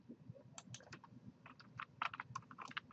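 Fingers type on a computer keyboard into a search box, a quick, uneven run of soft close key clicks at low volume, with no talk over them.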